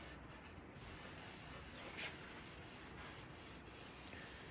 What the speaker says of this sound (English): We sand it with 180 grit sandpaper.